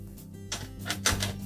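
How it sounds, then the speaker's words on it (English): Quarter-inch hex head screws come out of the rear access panel of a GE range, giving several quick metallic clicks and rattles at close range. "We'll simply remove the screws that secure the access panel in place."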